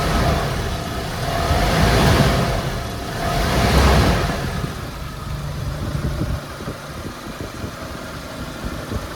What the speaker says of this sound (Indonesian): ini untuk suara mesinnya sangat halus kalau ini kita gas.